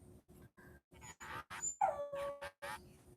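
Dogs squabbling over a dog bed let out a run of short whimpers and yips, rising into longer whining cries, close by with no talking.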